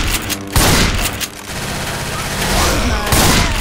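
Rapid bursts of gunfire in Left 4 Dead 2, loud and close, dense overlapping shots with brief gaps between volleys.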